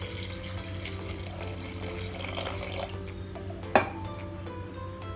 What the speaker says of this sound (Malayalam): ഇത് പരിപ്പിലേക്ക് ഇടുക. എന്നിട്ട് ആവശ്യത്തിന് വെള്ളം ഒഴിക്കുക.